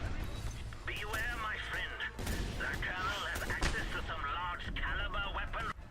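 Continuous enemy gunfire and booming blasts fill a Just Cause 2 firefight, loud and dense throughout, with someone talking over the shooting.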